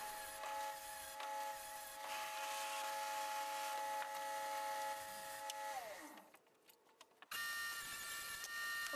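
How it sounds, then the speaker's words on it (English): A table saw rips 1/8 inch trim stock from a 2x4, a steady high whine under load that drops in pitch and cuts out near the end, then spins back up. "I'll now rip some 1/8 inch material that we'll use for trim."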